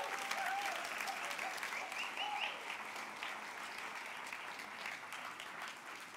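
Sustained applause from a church congregation, steady dense clapping filling the room for several seconds at moderate distance, with no voices standing out.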